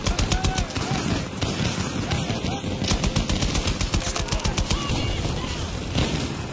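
Light machine gun fire in Battlefield 2042, rapid loud sustained automatic bursts with near-constant rattling shots and brief gaps, dense and close.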